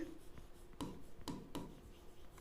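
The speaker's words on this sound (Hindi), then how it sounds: "तो चलो यहाँ पर हम लिखते हैं" A pen scratches across paper while a maths solution is written out, making three or four soft, quick strokes that are faint and close, with no voices.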